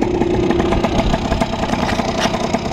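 A moped engine with an air filter and a 24 mm Voca carburettor runs steadily up close, a loud, continuous buzzing drone with slight fluttering and no speech.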